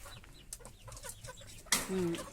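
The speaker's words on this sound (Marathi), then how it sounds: "आता मला अजून आता कोंबड्या सोडायच्या आहे" Hens clucking nearby in short bursts, then a sharp loud squawk near the end, with faint background voices.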